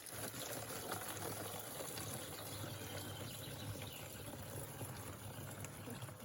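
A village spring in Russia, where jars are set out to be filled, gives a faint, steady rush of flowing water without pause and no voices.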